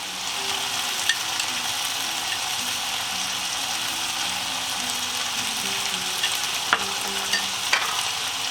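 Chicken wrap filling fries in a pan with garlic oil, a steady close sizzle running throughout while a utensil scrapes and stirs in short repeated strokes, with a few sharper clicks against the pan.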